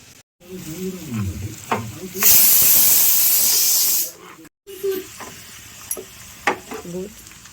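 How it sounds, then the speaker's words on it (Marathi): Onion fried brown in a pan for pav bhaji gives a loud close burst of sizzling for about two seconds, with someone talking before and after it. "थोडं कांदा चांगला भाजून घ्या, ब्राऊन होईपर्यंत।"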